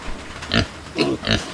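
Farm pigs grunt and oink close by, three distinct rough grunts spaced across a moment, loud against a quiet pen background with no talk.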